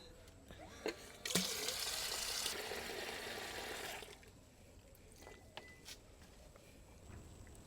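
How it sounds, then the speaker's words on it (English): A pump agitates neem oil spray mixture into a lather, giving a steady broadband hissing, bubbling rush for about three seconds after a brief click, then stopping to quiet with a few faint knocks. "I'm going to agitate it with my pump so that it lathers"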